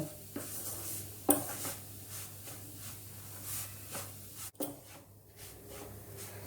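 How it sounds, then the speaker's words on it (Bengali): Gram flour (besan) is stirred and fried in ghee in a pan. The spoon makes soft, rhythmic scraping strokes over a faint, steady hiss, quiet and close, with one sharp knock partway through and no speech. "এরকম করে আমি 10 মিনিট বেসনটা ঘিয়ের সঙ্গে ভালো করে নাড়াচাড়া করে ভেজে নেব।"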